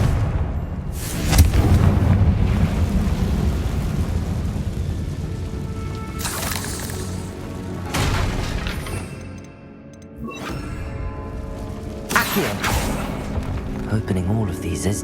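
Repeated Confringo fire-spell explosions in the Hogwarts Legacy video game: about five loud, sharp blasts go off at irregular intervals. Each crashes and shatters over a continuous rumbling game soundscape, with voices in the background.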